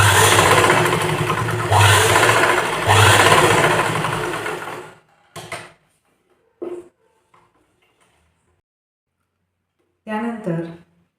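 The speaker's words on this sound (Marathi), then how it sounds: "आतल्या बाजूने ही पट्टी अशा पद्धतीने फोल्ड करून एक दाब शिलाई आपल्याला या ठिकाणी देऊन घ्यायची आहे" A sewing machine runs close and loud for several seconds while stitching a hook-and-eye strip, in a few surges, then stops, leaving scattered handling knocks and a brief voice near the end.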